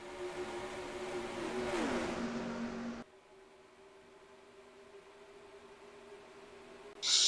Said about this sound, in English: Stewart gets a good move to the inside of Kyle Busch